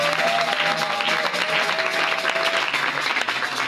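A church congregation claps and cheers in acclaim during a Sunday service, continuous loud applause with a faint sustained tone running beneath, filling the whole stretch.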